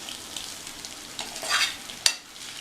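Vegetable rice is stirred and mixed in a pan, soft scraping and faint sizzle with a few sharper metallic clinks of a spoon against the pan near the end.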